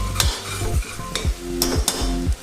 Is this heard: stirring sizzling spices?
yes